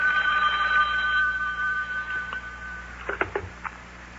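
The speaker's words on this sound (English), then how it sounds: "Oh, telephone's ringing." A telephone bell rings in an old-time radio show, a steady electric ringing tone that fades before a few short clicks and knocks, likely the receiver being picked up.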